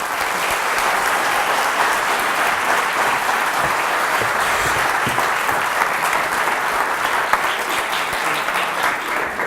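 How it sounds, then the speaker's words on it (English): A dense, sustained round of audience applause fills the room after a talk, loud and steady throughout with many hands clapping at once and no break. "So give him a round of applause."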